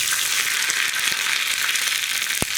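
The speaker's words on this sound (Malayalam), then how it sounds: "കടുകൊന്ന് പൊട്ടി തുടങ്ങട്ടെ." Hot oil sizzles steadily with sharp little pops and crackles of spluttering mustard seeds, dried red chillies and curry leaves, close up.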